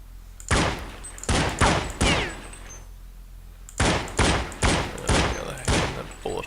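Gunshots ring out in a video game map, fired at a model. There are about ten loud, sharp cracks in two bursts, the first spaced roughly half a second apart, then a brief pause before the second.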